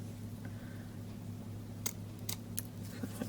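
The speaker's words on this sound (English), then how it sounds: "I'm just going to chop that little piece of ribbon off that's in that banner cut." A few crisp snips of scissors cutting off a small piece of ribbon for a handmade card, close and quiet, in two or three quick cuts.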